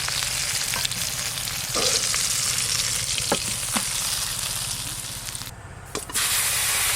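Small puti fish frying in hot oil, a steady close sizzle and crackle with occasional sharp spits and a brief dip midway.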